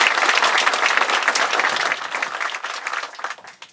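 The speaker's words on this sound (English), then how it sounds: "So please give those folks a round of applause." Audience applause at an outdoor groundbreaking ceremony in Humboldt, Tennessee, a dense burst of many hands clapping close and loud, tapering off over the last second.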